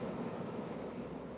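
Trains running on a sunken railway in the Cities Skylines game at night, heard as a steady low rumbling roll that continues evenly throughout, without clear wheel clicks.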